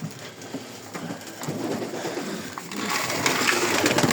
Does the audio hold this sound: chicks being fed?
no